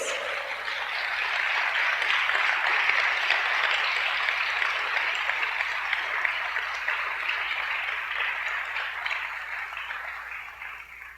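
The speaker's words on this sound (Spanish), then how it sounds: "Denle un fuerte aplauso a Dios." Congregation applauding at a Sunday church service, a dense, sustained wash of clapping that stays loud for about eleven seconds before easing slightly toward the end, with no voices standing out.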